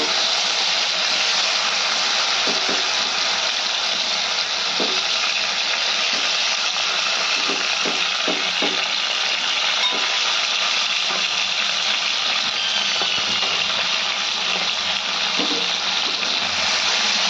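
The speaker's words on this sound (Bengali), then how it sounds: "এবার কচুগুলো দিয়ে দিলাম, এটা লাল করে ভেজে নেব।" Taro pieces frying in oil with cumin in a pan for Bengali home cooking, a loud, continuous hissing sizzle with faint occasional clicks, no talking.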